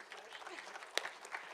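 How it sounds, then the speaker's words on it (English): A conference audience in an auditorium gives a brief round of applause for the authors, a soft, even patter of clapping with one sharper clap standing out midway. "We have a round of applause for all the authors."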